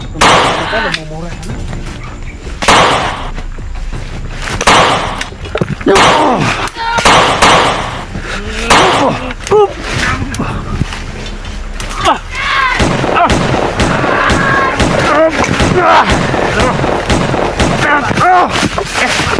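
Gunfire from a long gun, with a series of loud, close booming shots repeating over several seconds under excited shouting voices, ending in a dense stretch of noise.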